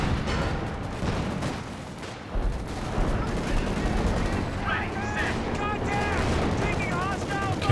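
Bombs and artillery pound a Company of Heroes 2 two-versus-two battle, a dense, loud wash of rapid gunfire and heavy booms rolling on without pause.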